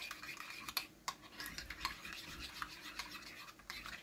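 Food seasoned with pepper being stirred, a utensil scraping and clinking against the dish in close, quiet, uneven strokes with brief louder taps, no talking.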